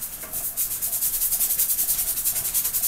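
A brush scrubs thin, runny oil paint mixed with plenty of thinner onto a board, giving a close, steady, rhythmic hissing rasp with fast regular strokes.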